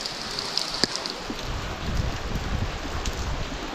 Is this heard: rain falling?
yes